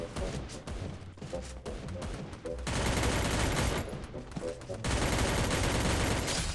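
Heavy automatic gunfire in a Free Fire battle royale match in the Bullseye area, glitchy overlapping bursts that surge louder in two waves, with a voice briefly heard underneath.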